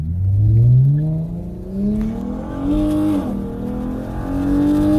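Dodge Challenger with a Mopar engine revs hard and accelerates in a loud, rising roar, shifting up through gears with the pitch climbing again after each change, while a Mustang follows behind.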